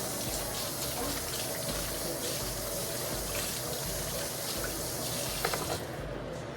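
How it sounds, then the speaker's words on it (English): Tap water runs steadily into a sink while fingers are rinsed under it, a constant close gushing hiss with no talking. "Let me rinse my fingers."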